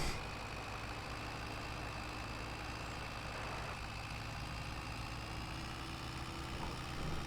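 A farm tractor's engine running steadily, a continuous low rumbling drone with a constant hum, close and even throughout, no talking.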